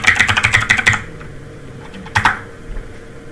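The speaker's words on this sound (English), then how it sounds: "type your email address" Quick keystrokes on a computer keyboard while entering an email address, a close, brisk run of clicky taps for about a second, then a pause and a couple of isolated key presses.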